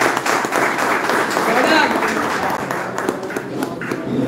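An audience claps at a cricket league auction, scattered applause mixed with a loud murmur of crowd chatter throughout.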